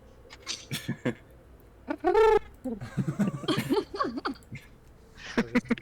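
A person whistles and warbles in imitation of a bird call, with several rising and falling chirps and trills, close and fairly loud, amid tabletop role-playing chatter.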